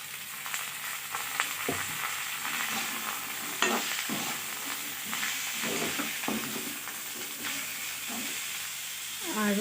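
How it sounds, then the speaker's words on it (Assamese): Bottle gourd pieces drop into a pan of fried onions for a traditional Assamese fish-head dish, bringing a continuous close sizzle with scraping stirs and a sharper hiss as the pieces land. "মোৰ পিঁয়াজখিনি ভাজি হৈছে এতিয়া মই লাওখিনি দি দিম"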